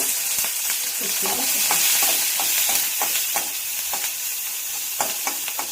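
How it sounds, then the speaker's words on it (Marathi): Green chillies and garlic sauté in a little oil in a pan, giving a continuous close sizzle broken by repeated scraping stirs of a spatula, loud and alone. "बघा, थोडंसं मी तेल टाकलंय आणि आपण चांगलं परतून घ्यायचं।"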